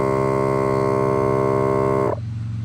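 A Milwaukee M18 inflator filling a flat 225/60/16 car tire drones with a steady, harmonic-rich motor hum and pump pulsing, then cuts off abruptly near the end, leaving quiet.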